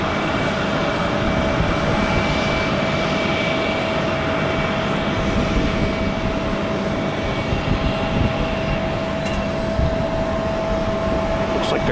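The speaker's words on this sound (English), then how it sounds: "They're taking off on 36 left and 36 center today, Northern Ops." Heavy jet airliners take off at Amsterdam Schiphol during the morning northern operations, giving a steady, loud, continuous engine roar with a sustained tonal whine that holds throughout, with no talking.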